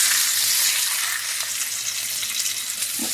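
Beef roast browning in a hot pan just after being flipped, a continuous bright sizzle close by that stays strong and even for the whole few seconds.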